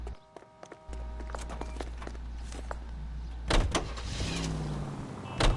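In L.A. Noire, a car door thuds shut as the player climbs in over a steady low engine idle, followed by a second door slam and a brief mechanical whir.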